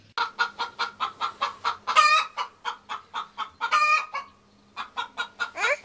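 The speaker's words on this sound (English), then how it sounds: "What did the chicken say? Did it say cluck, cluck, cluck?" A chicken clucks rapidly in a quick even series, close and clear, broken by a couple of louder squawking calls.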